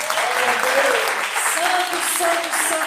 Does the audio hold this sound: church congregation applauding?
yes